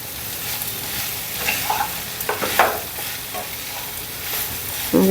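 Raw banana slices fry in a pan while being stirred, giving a soft, steady sizzle broken by a few scraping clicks of the spatula and a louder clatter near the end, with no voices.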